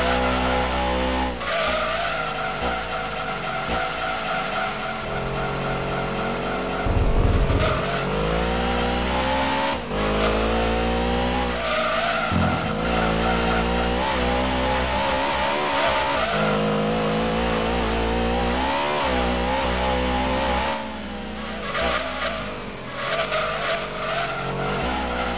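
Race cars in Gran Turismo 2 roaring steadily with engines revving through gear changes and tires squealing in skids through corners, a continuous loud drive.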